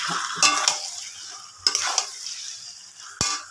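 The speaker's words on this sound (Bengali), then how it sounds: "মশলার মধ্যে দিয়ে এটাকে আমি ভালোভাবে নাড়াচাড়া করব" Chicken stirred with fenugreek leaves into a spice masala in a pan: a few scraping stirs and clinks of the spoon over a soft background sizzle, close and moderately loud, with no talking.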